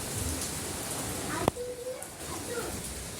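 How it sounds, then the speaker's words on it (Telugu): Heavy rain falls near a house in Bangalore, a constant dense hiss throughout with a sharp knock partway through and faint tonal sounds in the background. "మా ఇంటి దగ్గర బాగా వర్షం పడుతుంది"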